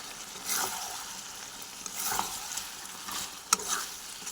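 Potatoes are stirred as they fry in oil in a pot, with soft scraping strokes over a low sizzle, a few louder clinks of the spoon against the pot, and no talking.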